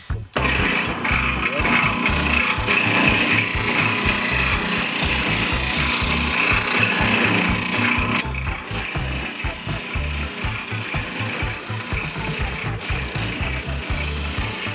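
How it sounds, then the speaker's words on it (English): A spindle sander grinds steadily inside the hole of a wooden cheese board, giving a loud, continuous abrasive whir that eases slightly partway through and carries on without a break. "With a spindle sander?"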